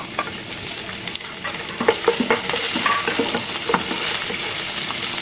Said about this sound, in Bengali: আমি প্যানে তেল দিয়ে দিয়েছি এখন এর মধ্যে রসুন কুচি দিয়ে দিচ্ছি